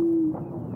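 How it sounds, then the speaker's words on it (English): Pigeon in the game Yes, Your Grace giving a soft, low coo with a couple of gentle hooting pulses after a brief steady tone, close and clear. "This is the pigeon."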